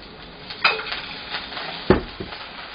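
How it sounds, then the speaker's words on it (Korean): Ginger stir-fried with soy sauce in a pan, heard as a soft sizzle with a couple of sharp scrapes and clinks of a utensil against the pan, close and without talk. "생강을 볶으면서 향을 빼주세요."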